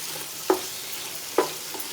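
Chicken pieces tumble into a pan of yogurt for chicken dum biryani, giving two soft wet plops about a second apart over a faint steady hiss, close and fairly quiet.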